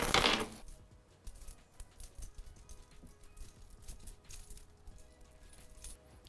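Metal chain links rattling and clinking in irregular bursts for foley, close and fairly quiet, after an initial louder jangle; no talking.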